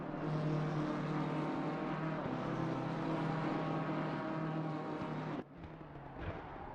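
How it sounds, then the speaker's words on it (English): A BMW GT race car, number 888, runs at Laguna Seca in Assetto Corsa Competizione, its engine a sustained drone at high revs that drops briefly near the end as the throttle lifts or a gear changes, with no voices. "And there is Dominic Schumont leading the charge in P1, that 888 BMW"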